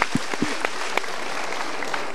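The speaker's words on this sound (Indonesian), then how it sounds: "kita berikan tepuk tangan dulu" Applause from a studio audience, dense clapping with a few sharper claps standing out, steady and moderately close for about two seconds.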